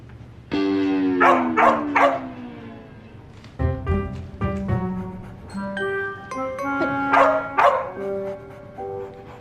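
A dog barks and yips repeatedly, close by, with excited whimpering cries mixed between the barks and no talk over it.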